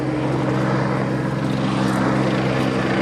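A Westland Scout helicopter with a high-powered turbine engine roars loud and steady at an air day, its turbine whine and rotor drone continuous.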